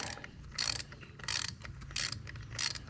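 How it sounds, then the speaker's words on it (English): Hand ratchet tightening bolts on the yoke of a John Deere 4020 tractor, four evenly spaced bursts of rapid clicking separated by short pauses, close and crisp, no talk. "Then I have to tighten up the other bolts on the yoke thingy there."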